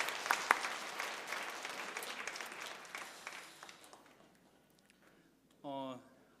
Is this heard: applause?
yes